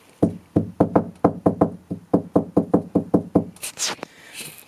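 Knocking on a bare carpet set panel with no sheet on it, about eighteen crisp, hollow knuckle raps in a steady rhythm, close and clear, followed by a brief rustle at the end.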